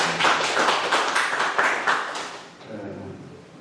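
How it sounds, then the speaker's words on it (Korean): A church congregation clapping for the pastor during a Sunday worship service, a burst of many hands applauding for about two seconds, then fading as a faint voice and low background sound remain. "목사님 우리 박수 한번 보내줍시다."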